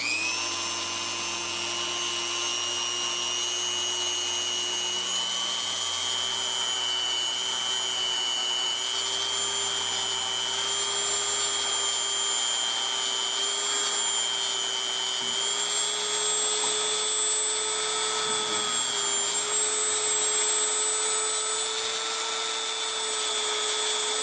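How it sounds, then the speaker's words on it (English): A Dremel rotary tool polishes an 1851 Navy single-action revolver, giving a continuous high, close whine that holds steady and rises slightly in pitch as it runs on without pause. "We'll do a little bit of a polishing job on here with the Dremel."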